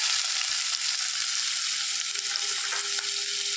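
Chopped onions fry in hot coconut oil for a Kerala-style tapioca and green gram curry, giving a steady, close, fairly loud sizzle that holds evenly throughout with no talking.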